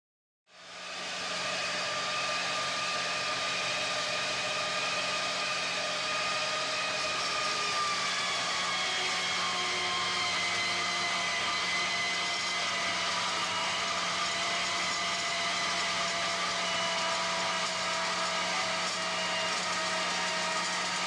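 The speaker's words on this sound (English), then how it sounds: "this is an M2 modern bimetal saw blade with rather coarse teeth." An M2 bimetal saw blade with coarse teeth cuts steadily through a wootz steel sword, giving a continuous loud, close metallic grinding whine with ringing tones that slowly shift pitch over about twenty seconds.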